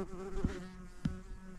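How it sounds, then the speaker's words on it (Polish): A wasp buzzes close by outdoors during a digging expedition, a steady, fairly loud drone with a few soft thumps in it and no voices. "Mucha tu już lata."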